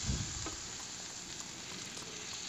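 Tomato pieces cooking in a ridge gourd and moong dal curry give a steady, close sizzle and crackle that runs evenly throughout, with no voices.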